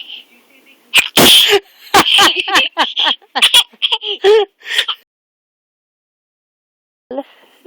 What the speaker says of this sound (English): Make yourself sneeze.